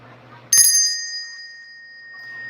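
A handheld bell is struck once and its bright metallic tone rings on, slowly fading over a couple of seconds, with faint room noise before and after the strike.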